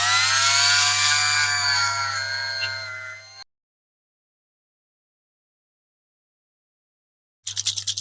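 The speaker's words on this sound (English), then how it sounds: "Now I'll get a clean polishing tool onto the rest of that" A rotary tool spins a felt polishing wheel against a die-cast Matchbox F1 racer, a high, whining motor tone that slowly sags in pitch for about three seconds, then silence before a brief renewed burst.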